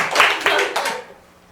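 During an evening Buddhist dharma service, a few quick hand claps ring out close and sharp, then fall away into quiet.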